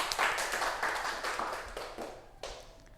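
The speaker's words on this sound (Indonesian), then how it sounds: "betul sekali, tepuk tangan buat Mas Danu" A classroom claps for a student during a microteaching session: brief, fairly close clapping from a small group with uneven bursts, tapering off near the end.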